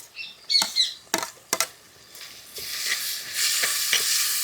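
Tomatoes go into a pan of fried onions for Andhra-style egg curry, a few sharp thuds and clinks followed by a rising, steady sizzle that fills the last seconds; no talking.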